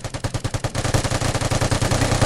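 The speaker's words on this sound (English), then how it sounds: "Do you see how many bullets I shot off in the direction?" Rapid automatic gunfire from a shooter video game rattles out in fast, loud bursts, the shots running almost continuously with no talk.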